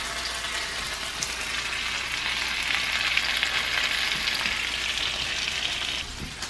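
Roasted potatoes, bacon and eggs fry for breakfast in a pan, giving a steady, dense sizzle that carries on loud and unbroken throughout, with no talk.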